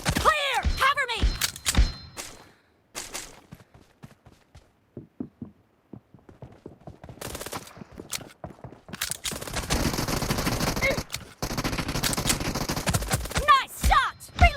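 Video game gunfire from a P18C pistol and an M416 rifle in a one-on-one room match: rapid bursts and single shots with thuds, between stretches of quieter footsteps and game voice callouts.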